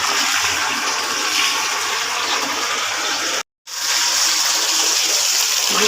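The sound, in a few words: washing dirty items with mixed hot and cold water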